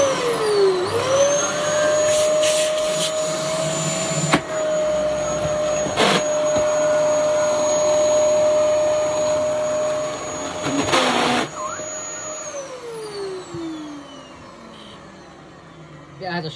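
A faulty vacuum cleaner, apparently clogged and smelling of burning, whines up to speed and drones steadily at close range. It is punctuated by a few sharp knocks and bursts before spinning down with a falling whine.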